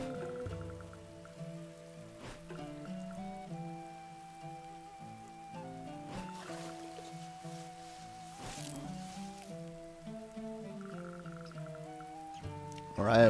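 Rain patters steadily in the video game Dead in Vinland, faint under a continuous tonal music score, with no talking.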